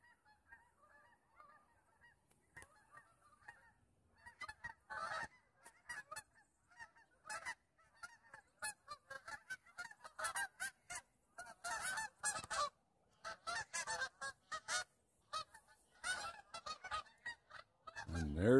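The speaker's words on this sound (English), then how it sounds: "we have the geese coming" A flock of geese flies over southern Vermont on a frosty morning, honking repeatedly. The calls start faint and sparse, then grow louder and busier as the birds pass overhead.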